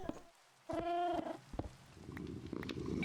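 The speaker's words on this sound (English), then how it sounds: "Thank you for the meow." A cat gives a single short, close meow with a rising tonal cry, followed by soft rustling and faint background noise.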